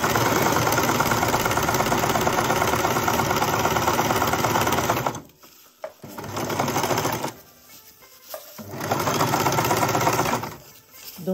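A sewing machine stitches a fabric seam in loud, close bursts: a long continuous run, then shorter runs separated by brief pauses and stops.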